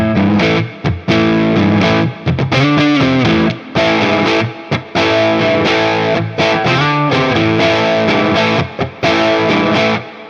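Homemade Gibson-style electric guitar with P90-type pickups, played loud through distortion and reverb, with a continuous stream of thick, sustained chords and riffs marked by a few brief pauses.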